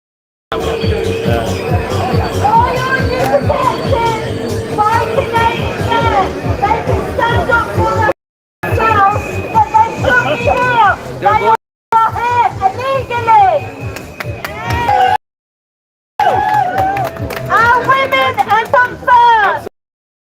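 Protesters gather outside the Roundhouse Hotel in Bournemouth, a loud, close crowd of overlapping voices, shouts and whoops. The noise runs continuously, broken only by a few brief cuts to silence.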